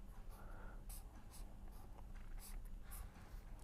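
Pen or chalk scratching across a board during a chemistry lecture, a series of short, brisk strokes in quick rhythm, fairly close but low in level over faint room noise, with no talk.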